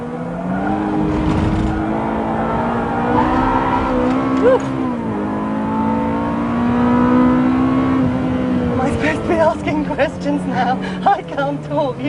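A Ferrari engine drones steadily at close range from inside the car on a lap of the Fiorano test track, pitch shifting as it changes speed, with talking over it and clicks and rattles toward the end.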